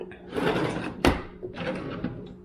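A kitchen drawer holding spoons in an apartment slides open and shut, with a rolling rumble, a sharp knock midway, then another sliding run, close and moderately loud.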